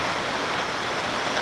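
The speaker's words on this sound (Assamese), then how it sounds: "গুৱাহাটীত বৰষুণ দিছে" Heavy rain falling in Guwahati, a dense, unbroken rushing hiss that stays steady throughout the brief moment, with no voices.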